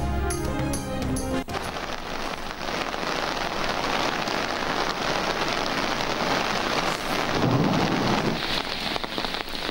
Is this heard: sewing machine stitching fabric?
no